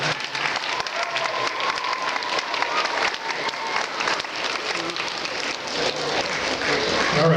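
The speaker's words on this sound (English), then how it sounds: "So let's clap for all of those people" Sustained audience clapping in a school gathering, a dense, steady patter of many hands heard from a middle distance, rising slightly toward the end, with a few faint voices beneath it.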